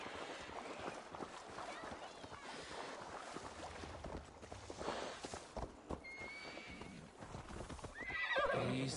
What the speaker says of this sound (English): The horse is a little unsettled, but safe.